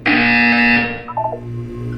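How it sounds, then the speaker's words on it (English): A buzzer in the video game Portal 2 blares as a single loud electronic tone for about a second, then falls away into quieter tones. "You will hear a buzzer. When you hear the buzzer,"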